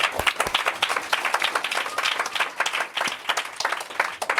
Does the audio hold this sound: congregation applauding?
yes